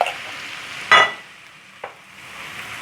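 Ginger garlic paste going into frying minced beef in a pan for a Bakra Eid egg-fry dish, a brief burst of sizzling as it hits the oil, then quieter stirring and a soft clink.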